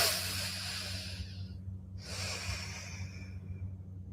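Slow breathing during a guided meditation: a long, airy exhalation, then a short pause and a fresh breath, close and clear with no talk over it.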